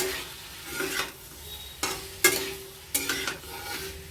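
Capsicum, onion and tomato stir-frying for a simple home-style vegetable dish, with a steady close sizzle broken by a few sharp scrapes and clinks of a spoon against the pan.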